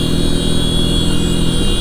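TVS Apache RTR 310 motorcycle engine revving, a loud, close, steady mechanical drone held alone for a brief moment without any speech.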